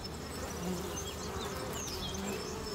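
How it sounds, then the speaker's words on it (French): A honeybee swarm buzzes steadily at a hive in the morning, a dense, faint, continuous drone of many wings with individual bees zipping past up close. "Un bon petit essaim qui travaille bien"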